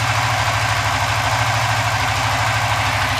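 An engine idles steadily while its Apitech ECU is being tuned, a loud, close, even throb with a slight rhythmic knock and vibration, continuous throughout with no voices.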